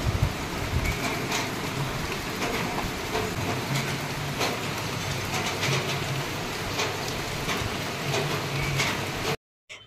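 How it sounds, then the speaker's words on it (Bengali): Heavy rain pours down in a dense, continuous roar, close and loud, filling the whole stretch before cutting off abruptly at the end. "এমন বৃষ্টির আওয়াজ হচ্ছে"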